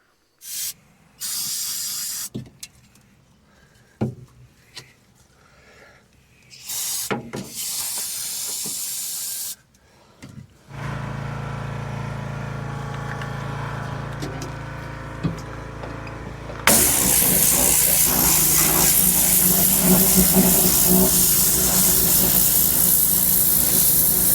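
A hydraulic hose bursts on a 1975 Ford backhoe, giving a loud, steady spraying hiss that keeps going and grows stronger partway through, after some earlier scattered bangs and mechanical noise. No one speaks.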